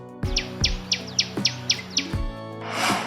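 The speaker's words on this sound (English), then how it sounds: "T-A-I-L-O-R, Tailor bird, darji pakshi" Tailor bird (tuntuni) calling in a series of about eight sharp, evenly spaced chirps, close and clear, followed by a brief burst of noise.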